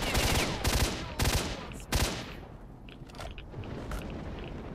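Gunfire in the video game S.T.A.L.K.E.R. Shadow of Chernobyl: a quick run of loud, sharp shots in the first two seconds, then fainter scattered bangs and impacts trailing off.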